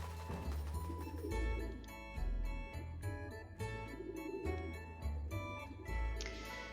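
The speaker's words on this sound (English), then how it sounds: "Bye, pigeons." Pigeons coo in a Venice scene of the Nancy Drew game Phantom of Venice, soft repeated calls layered under steady game music, with no talk.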